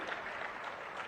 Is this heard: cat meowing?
no